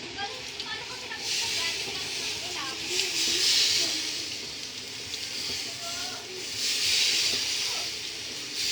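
Sprite poured into a hot cooking pan of meat bursts into loud hissing sizzles that swell in waves, with people talking over it.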